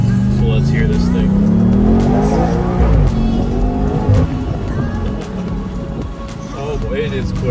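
A 2020 BMW M8 accelerates hard, its engine roaring loud and close with rising revs and quick gear shifts, while people talk over it.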